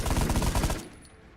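Turrets in a video game fire a fast, loud burst of rapid automatic shots for under a second, then cut off into a short fading tail.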